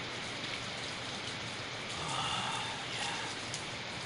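Rain falls steadily in a soft, even patter, a dense continuous hiss of drops on surfaces with no voices over it.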